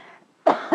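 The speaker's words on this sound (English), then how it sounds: "Sorry, I'm having a coughing attack." A single harsh cough, close and loud, after a brief faint throaty sound.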